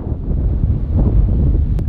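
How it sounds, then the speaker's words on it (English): Steady, loud wind buffeting the microphone, a continuous low rumble with gusty swells throughout, at Kubu Island in Botswana's Makgadikgadi Salt Pans. "Very windy, sorry if you can't hear me."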